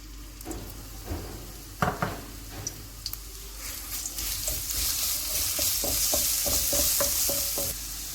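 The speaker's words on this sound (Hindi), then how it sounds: "जब ऑयल गर्म हो जाएगा तो अदरक और लहसुन का पेस्ट डाल देते हैं।" Ginger garlic paste fries in hot oil, with a bright, steady sizzle swelling into a constant hiss while a spoon scrapes and taps against the pan in quick irregular strokes, close and alone.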